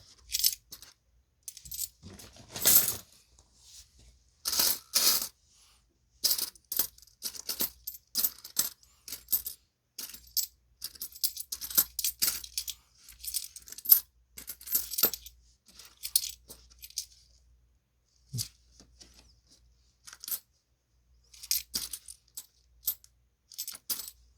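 Korean 10-won coins spill and clink from an unrolled bank coin roll, a close, crisp run of metallic jingles and taps in irregular bursts with short quiet gaps, no voices.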